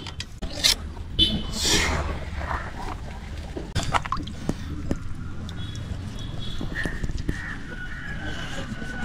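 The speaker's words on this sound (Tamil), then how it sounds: "மரத்தடியில் வந்து வச்சு மீன் கழுவிட்டு இருக்கோம்" Water splashing and sloshing close by as fresh ayala fish (mackerel) are rinsed under a tree outdoors, with irregular wet slaps and scattered clatter throughout.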